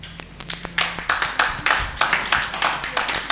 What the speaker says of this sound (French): Normalement, on doit applaudir pour toi.